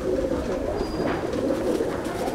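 Chennai breed pigeons in a loft give a low continuous cooing drone, steady and fairly close, with no talk.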